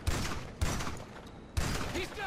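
Gunfire in the video game GTA V Online, three loud sharp shot bursts spaced about half a second to a second apart, each with a short noisy tail.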